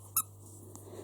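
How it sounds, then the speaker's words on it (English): A plush ice cream cone dog toy gives one short, high, close squeak, followed by a faint second chirp over a low steady hum. "So it is a dog toy, it squeaks."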